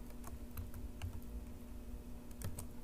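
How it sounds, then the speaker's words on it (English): Sparse, soft keyboard clicks tapped in short irregular bursts, with a quiet pause in the middle, over a faint electrical hum. "I've been typing the whole day."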